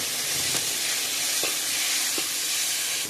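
Gongura chutney being stirred into pulao in a hot pot, a dense steady hiss of sizzling with a few soft scraping strokes of the spoon rising above it.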